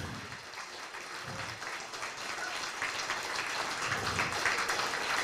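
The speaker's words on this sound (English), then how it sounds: "let's give these two another round of applause" An audience at a town hall claps in a steady, moderate wash of applause that builds slightly and holds without any voices on top.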